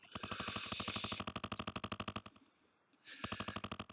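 Retro Gargoyle Games shooting and explosion effects rattle out as rapid, evenly pulsed bursts of gunfire, loud and close, with a brief gap before the burst resumes.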